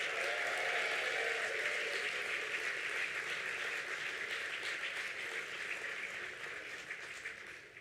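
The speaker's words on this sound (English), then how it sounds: "go ahead and give those people a big round of applause" Applause at a charity gala in San Diego County, a broad crowd clapping steadily at moderate distance and slowly fading over several seconds.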